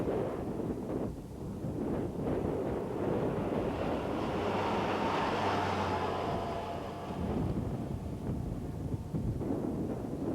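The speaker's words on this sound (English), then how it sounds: "The wind and sand are worse, but Vismara's goal is almost in sight." Wind blasts across open desert during the 1986 Paris-Dakar rally, a constant loud roaring rush with buffeting against the microphone throughout.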